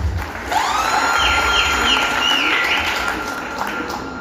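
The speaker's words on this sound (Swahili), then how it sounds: "Pigeni makofi basi." A crowd at a memorial service for Betty Bayo claps and cheers, a steady wash of applause that swells and holds throughout, with whistling and raised voices mixed in.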